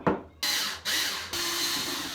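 A power drill bores a hole for mounting mirror brackets during an Ikea mirror installation: a brief start, then two sustained whirring runs separated by short pauses, close and clear.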